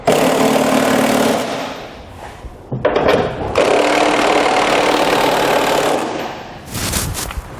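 A power wrench with a 15/16 socket tightens side rail bolts on a truck fifth wheel installation kit, a loud continuous whirring drive that dips briefly in the middle before resuming, ending in a few sharp ratcheting bursts.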